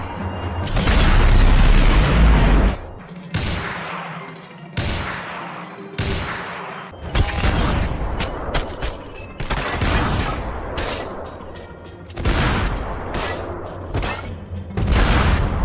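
Video game combat with sniper rifle shots and explosions: heavy booming blasts and bursts of gunfire, loud and dense, with short gaps between the volleys.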